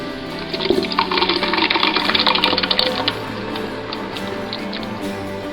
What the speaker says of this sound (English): now I'm going to go ahead and add the ingredients that I blended